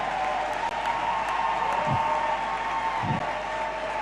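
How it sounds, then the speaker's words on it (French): Church congregation applauding at a farewell service, a steady mid-level clapping texture with a couple of low thumps breaking through near the end. "Can we clap?"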